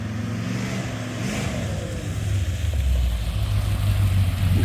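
A car on a test drive after transmission work, its engine droning at low pitch while it drives, then revving up louder and holding a steady, rising hum toward the end.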